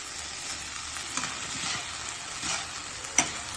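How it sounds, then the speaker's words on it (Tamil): Broad beans poriyal with grated coconut is stirred in a pan, a soft continuous sizzle with a few light scrapes of the utensil against the pan and one sharper tap near the end. "தேங்காய் போட்டின பிறகு அது கொஞ்சம் நல்லா கொஞ்சம் கிளறி விடுங்க"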